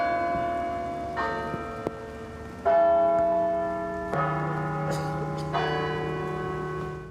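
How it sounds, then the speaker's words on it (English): Church bells ring out across Bradford for the anniversary of the 1985 football disaster, with several fresh strikes of overlapping tolls layering into a loud, sustained resonant peal that carries on between each new chime. "Every year at the same time, bells ring out across Bradford"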